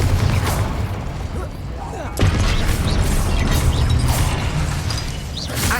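Spell explosions and mechanical effects from Hogwarts Legacy, with loud booming bursts and a sharp blast around the middle over busy game noise, while a voice speaks throughout.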